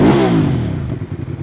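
A 2022 QJMotor SRV250 ABS motorcycle with about 1,000 km on it, its engine firing up close by with a brief rising rev that settles into a choppy, pulsing idle.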